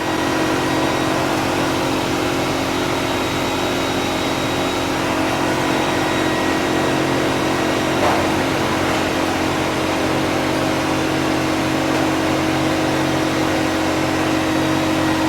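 A car engine with a compressed-air supercharger, held at a steady, loud drone on a dynamometer during a sustained high-rpm pull that runs unbroken for the whole stretch.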